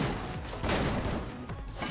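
Rapid gunfire rattles through a Free Fire match, a dense, continuous burst of repeated shots with no talking over it.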